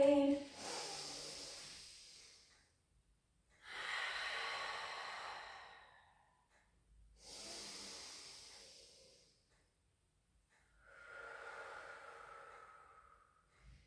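Slow, deliberate breaths during a pilates exercise: four long airy inhales and exhales, evenly spaced and close to the microphone, soft and hissy with no talking.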